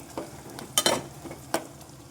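Cumin, mustard seeds, dried red chillies and onions frying in oil make a soft steady sizzle, with a few brief scraping stirs of a utensil in the pan, close and fairly quiet.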